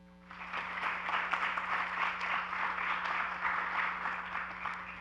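Sustained audience applause fills a university presentation hall for several seconds, dense steady clapping from a crowd, with a low electrical hum running underneath.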